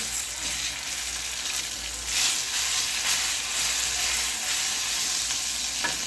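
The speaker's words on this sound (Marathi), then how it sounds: "आता आपल्याला हा कांदा पण तेलामध्ये परतून घ्यायचा आहे म्हणजे छान प्रकारे परत परतले जाईल तेलामध्ये" Chopped onion sautéing in oil in a pan, a steady close crackling sizzle with faint stirring scrapes and a brief louder burst partway through, no speech.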